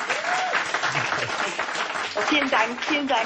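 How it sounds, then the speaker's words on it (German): An audience applauds with dense, sustained clapping at moderate volume, while a voice speaks briefly over it. "Bitte mal einen Applaus für uns."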